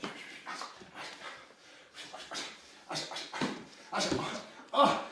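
A dog pants and snorts close by during toy play training, in rapid breathy bursts with faint whimpers, heard alongside light human vocal sounds.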